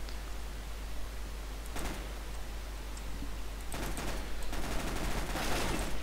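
Rapid automatic gunfire from a weapon in Counter-Strike, bursts of shots crackling over a steady background hum, growing denser and louder toward the end, with no voices.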